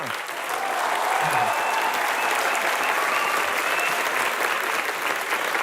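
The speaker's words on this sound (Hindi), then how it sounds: "राखी सावंत के लिए जोरदार तालियां" The studio audience of a TV comedy show applauds Rakhi Sawant's entrance with loud, sustained, evenly packed clapping from a large crowd, with a faint voice briefly at the start.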